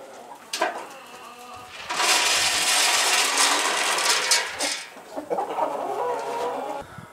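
Chickens on a homestead cluck and squawk in a busy flock, with a louder burst of overlapping calls in the middle and scattered nearby clucks around it.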